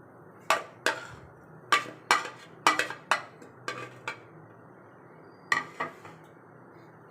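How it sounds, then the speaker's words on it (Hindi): Chicken tikka marinade with lemon juice and paste being mixed in a bowl, sharp clinking taps of a utensil against the dish in irregular clusters, close with a quiet background. "इसको जो है हमने अच्छी तरह मिक्स करना है।"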